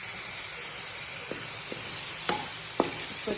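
Tomato and green chili paste frying with onions in a karahi, a steady soft sizzle and hiss with a few scraping stirs and light clinks of a utensil against the pan, no voices.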